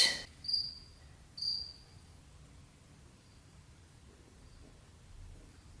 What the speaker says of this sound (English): the cricket stopped